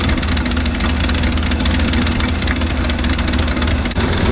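A low, steady engine idle rumbles continuously and fairly loud, with a constant throb and no break, from a 1955 Chevy truck that sat unused for 23 years, running on its own.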